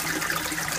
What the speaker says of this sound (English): plenty of aeration going in there just on the water flow